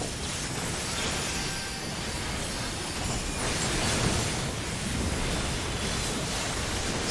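Explosion in the video game Final Fantasy XIV, a dense, sustained roar of broadband noise lasting several seconds at steady loudness with no speech over it.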